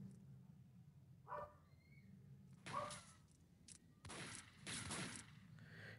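Shots ring out in the Max Payne Mobile video game as the player fires at rats. Single gunshots and short bursts come at irregular intervals over a low game background hum.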